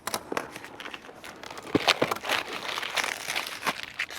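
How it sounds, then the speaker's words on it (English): A knife slices and tears plastic wrap off a box, giving close crinkling and crackling rustles in irregular bursts that go on throughout. "Cut the plastic off without cutting my fingers off"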